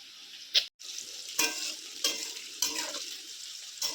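Food frying in oil in a pan during a vegetarian spiny gourd dish, a continuous hiss broken by about four sharp stirring scrapes spaced a second or so apart, close and moderately loud, no voices.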